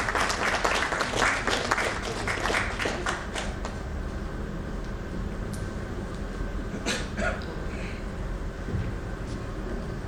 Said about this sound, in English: Once again, a huge round of applause, please, for our esteemed panel.